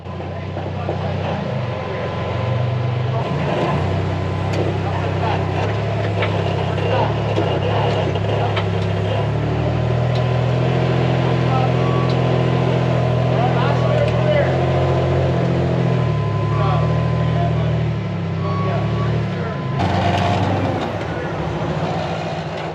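A rock crawler 4x4 grinds over rocks at Sand Hollow's Sandthrax trail with a steady, loud engine drone that rises and falls as it climbs, while voices talk throughout.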